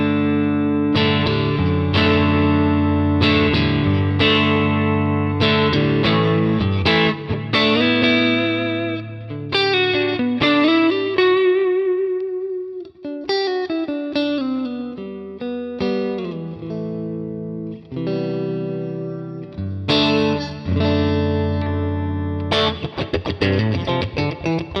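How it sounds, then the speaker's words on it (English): Fender Stratocaster electric guitar played through a Deluxe 65 amp model on a Quad Cortex, with loud strummed chords, single-note lines and bends, ringing sustain, and no talking. "For all these tones today, I'm using my Fender Strat, and let's hear how it sounds"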